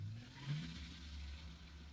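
A CFMOTO U10 side-by-side engine runs in low gear with a low, steady rumble and a slight swell in revs early on, heard from inside the cab.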